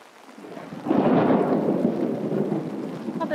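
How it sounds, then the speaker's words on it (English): Heavy rain hisses steadily on the streets of Geylang, Singapore, while a low rumble of thunder rolls in and lingers, deep and fairly distant. "That's of course thunder at the background."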